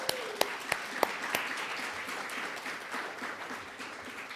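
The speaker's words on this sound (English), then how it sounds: "let's give him a round of applause" Audience applause for a scholar introduced at a panel on climate responsibility, opening with a few sharp claps before settling into steady, moderately distant clapping with no talk over it.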